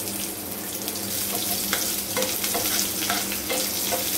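Onion and a small piece of tamarind sautéing in a pan for chutney: a steady frying sizzle with repeated spatula scrapes and stirring strokes, close and moderately loud, no talk.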